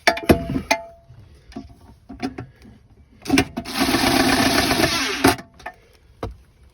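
A 10mm socket on extensions snugs down bolts while a safe is installed in a 2023 Silverado 1500. Close metallic clicks and knocks come first, then a loud, steady powered whir for about two seconds, followed by a few more clicks.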